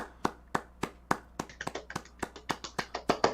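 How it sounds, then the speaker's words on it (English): Studio audience clapping for a guest on an indie game discussion show, a steady run of sharp, fairly close hand claps that come quicker and denser in the second half. "Let's clap it up for Derivative."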